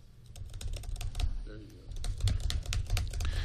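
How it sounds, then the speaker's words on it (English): Quick, light typing on a Surface RT tablet keyboard, a close run of soft clicking keystrokes in uneven bursts, with a short pause partway through. "Let's type here."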